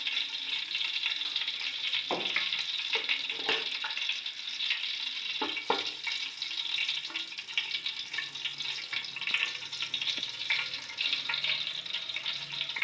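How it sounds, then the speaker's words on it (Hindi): Whole cardamom pods sizzle steadily in hot ghee while making degi-style zarda sweet rice, a continuous close crackling fry with a few sharper pops and no voices. "घी जो है हमारा गर्म हो चुका हुआ है। अब इसमें 3 अदर इलायचियाँ शामिल कर देते हैं।"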